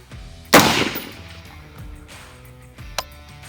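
A single sharp, loud shot from a UAR-15 rifle cracks out during zeroing, followed by a rumbling echo that fades, then a fainter thump near the end.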